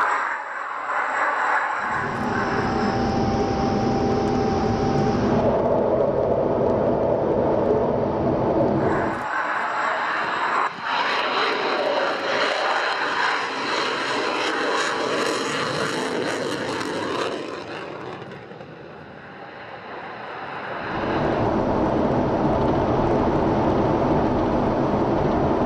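A display aircraft at the Royal International Air Tattoo pulls into a minimum radius turn, its engine noise cutting in and out in loud blocks, fading briefly near the end before swelling back.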